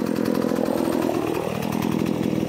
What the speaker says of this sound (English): It's the first time I've had the chainsaw not die on me.